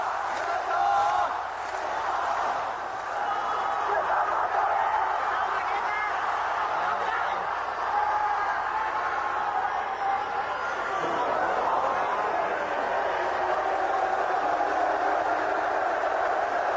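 Wrestling arena crowd booing during a match, a broad sustained jeering roar rising and falling, with a voice speaking over it.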